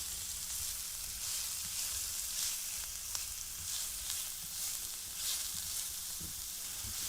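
Onions sauté in a pan with a constant, fairly loud sizzle, a few faint scrapes of stirring now and then, and no voices.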